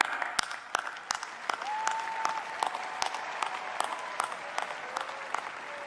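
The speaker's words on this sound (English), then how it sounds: "Please join me in applause." Audience applause at a spring commencement ceremony at UNC-Chapel Hill for graduating degree candidates; sustained crowd clapping with loud, sharp individual claps standing out, filling a large hall, with a faint tone in the background.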